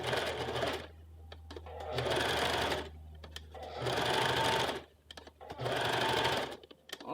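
A sewing machine stitches a puff sleeve seam on a Western blouse in four loud, steady bursts, each separated by a short pause.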